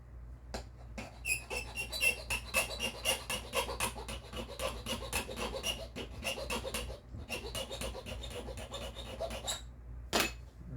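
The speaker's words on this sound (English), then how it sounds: "I'm going to sand down that front one just a hair more" Hand sanding on a small wooden part, rapid rhythmic rasping strokes in quick bursts, close and fairly loud, with a short pause near the middle and a final scrape at the end, no talking.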